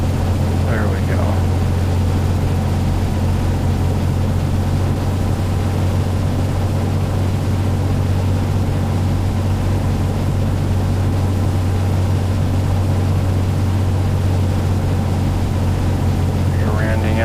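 A Cessna's piston engine in the Prepar3d flight simulator drones steadily and loudly throughout with a strong low hum and broadband noise, holding an even pitch during slow flight.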